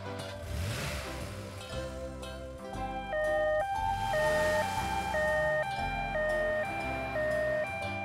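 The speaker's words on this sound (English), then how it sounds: "Ambulance." An ambulance siren plays a steady, loud two-tone wail that alternates pitch in a regular rhythm, layered over a continuous low rumble with no talking.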